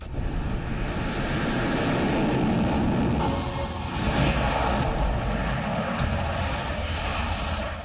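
Military fighter jet engines roar loud and steady, a dense broadband rumble with a brief rising whine in the middle, tied to a Chinese and Pakistani air exercise.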